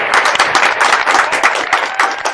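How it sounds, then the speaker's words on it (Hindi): Studio audience at a comedy show claps loudly and close, a dense, irregular patter of many hands sustained throughout as the show opens. "और हम प्रोग्राम का आगाज करते हैं एक भरपूर तालियों में।"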